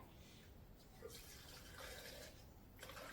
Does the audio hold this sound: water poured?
yes